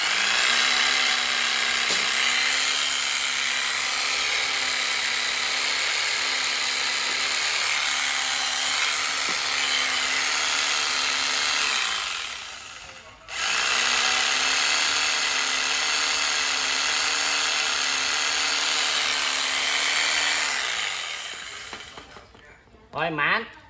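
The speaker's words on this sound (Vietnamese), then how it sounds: "Rồi mã con này là con cưa lọng Hitachi" A Hitachi jigsaw, a 100V power tool, runs with a steady high motor whine, cuts out briefly around the middle, restarts, then winds down near the end.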